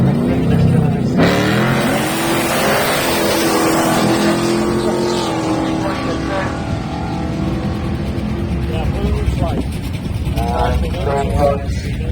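Drag race cars, a 5.7 litre Ford Mustang and a Chevy Nova, roar and accelerate down the strip with a loud, sustained engine drone and rising revs, under a trackside announcer's voice.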